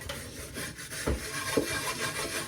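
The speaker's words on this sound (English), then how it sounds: "To scrub it thoroughly for all the dirt to go off." Scouring a dirty old cooking pot with crushed eggshell and powder detergent gives a continuous close gritty rubbing and rasping, with a couple of stronger scrapes partway through.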